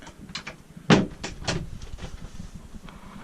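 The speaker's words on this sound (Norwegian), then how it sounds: "hvis man skal på do, så kan man lukke inn til døra her" The toilet door aboard a 1982 Hallberg-Rassy 352 sailing yacht is closed, giving a few close wooden knocks and one sharper thump and latch click in a small enclosed cabin.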